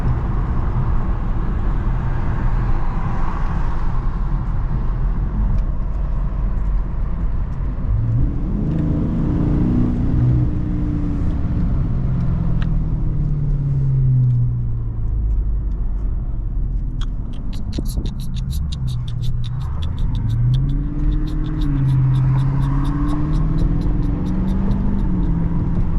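A 2023 Dodge Charger Scat Pack cruises down the road, its steady low engine rumble swelling twice into rising, revving tones as it accelerates, close and continuous throughout with no talking.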